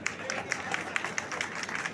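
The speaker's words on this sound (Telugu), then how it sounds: "చప్పట్లో కొట్టండి" An audience clapping at a BJP party meeting, heard as a steady, fairly rhythmic patter of hands at moderate distance, faint and continuous.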